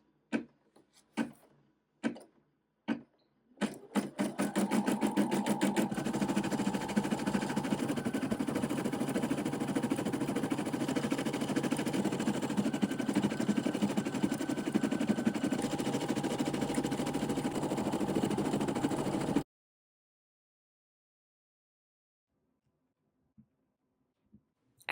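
Brother 550d embroidery machine stitching after a few clicks of setup, its rapid, even needle clatter running steadily for about fifteen seconds at close range before stopping abruptly into near silence.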